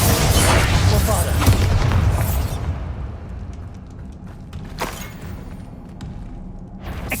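A Bombarda spell explosion in the Hogwarts Legacy video game: a loud, deep blast opens the moment and rumbles down over a couple of seconds into lower battle noise, with fainter thuds afterward.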